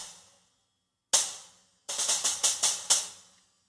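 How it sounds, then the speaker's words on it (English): 10-inch Meinl Byzance Dark Splash stacked upside down on a 10-inch Soundcaster Custom Piccolo Trash China, struck once, then hit in a quick run of six sharp, trashy, biting crashes, each decaying quickly, with no talk. "This little mini stack that I'm using here is a 10-inch Byzance Dark Splash,"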